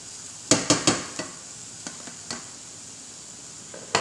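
Diced red pepper and mushrooms tumble into a hot pan for a quiche tartlet filling, giving a quick cluster of clattering drops followed by a few scattered taps over a faint, steady sizzle.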